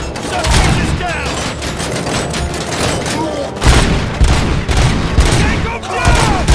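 Heavy sustained gunfire in the RoboCop: Rogue City video game, loud continuous volleys with booming hits throughout, while voices shout over the shooting.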